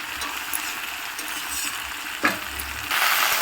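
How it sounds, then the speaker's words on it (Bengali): Leafy greens and chicken frying in separate pans sizzle loudly and steadily, with a sharp crackling burst partway through and the hiss swelling louder near the end. "শাকের কি শব্দ, মানে বোম ফাটছে মনে হচ্ছে"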